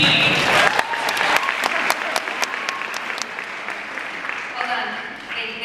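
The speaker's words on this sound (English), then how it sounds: "They applauded over your sentence" An audience at a comic convention panel bursts into loud, dense applause that gradually thins and tapers off, with voices talking over the clapping.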